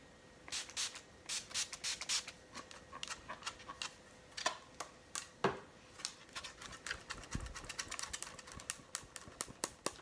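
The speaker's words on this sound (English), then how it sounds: "I'm gonna put in some setting spray because I don't like to use my mascara before setting spray." Several short hissing bursts of makeup setting spray mist onto a face, scattered among quiet clicks and taps, all close and soft in an otherwise hushed room.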